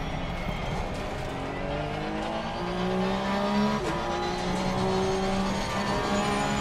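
A Porsche Supercup race car in Assetto Corsa Competizione at Kyalami, engine revving up and down through the gears while the tires are worked to warm them, with faint squeal, loud and steady.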